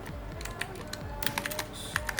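A broken computer keyboard clatters under quick, uneven bursts of typing, crisp individual keystrokes close up with short pauses between runs.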